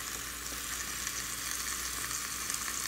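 Steak sizzles inside a closed, pressed-down waffle iron, a steady bright hiss with faint crackles running continuously throughout.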